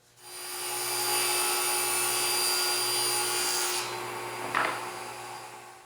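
A bandsaw runs steadily with a high whine while cutting a thin wooden strip, a continuous loud hum that drops as the cut finishes and ends with a brief scrape.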